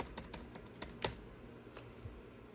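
The F2 key on an Acer laptop keyboard is tapped repeatedly, giving a quick burst of sharp plastic clicks followed by a few scattered presses in a quiet room.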